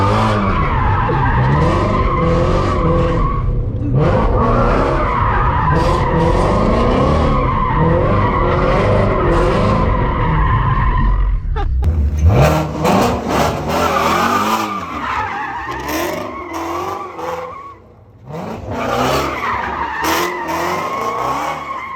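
A Ford Mustang GT350 driven hard in race mode, with its engine roaring loud and tires squealing and skidding in long, continuous bursts, close by with brief dips.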